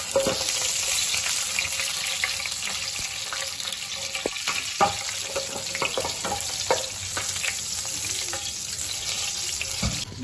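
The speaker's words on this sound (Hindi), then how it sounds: "तड़के के लिए और इसे 5 से 10 सेकंड के लिए भुनाई कर लेते हैं इसकी" Cumin seeds frying for a tadka in a pan for dal gosht, a steady broadband sizzle running continuously with occasional light clicks and scrapes of a spoon, no voices.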